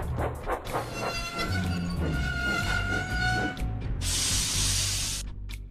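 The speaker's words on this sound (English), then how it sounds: "James pulled in with a train of trucks" James, a steam engine, pulls in hauling a train of trucks: a rumbling roll with sustained whistle-like tones, ending in a loud, sharp hiss of steam.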